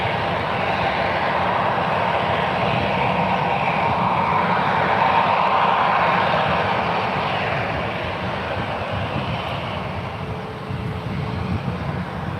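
An airliner takes off from runway 1 right at SFO, its jet engines giving a sustained loud roar that holds steady and then slowly eases as it departs.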